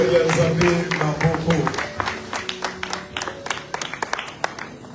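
A church congregation at a praise and worship service breaks into applause, dense clapping at first that thins into scattered individual claps toward the end, with voices and sustained tones mixed in under it.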